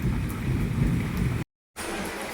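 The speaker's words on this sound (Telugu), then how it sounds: "ఇలా పడుతుందన్నమాట వర్షం" Steady, dense rain pours down beside banana plantations during a lightning storm, with a low rumble of thunder mixed in and a brief moment of silence partway through.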